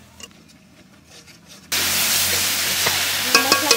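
Spice masala fries in hot oil in a pan for Bengali chital macher muitha, a loud, close, steady sizzle that starts abruptly after quiet handling sounds, with a few stirring clinks near the end and no speech.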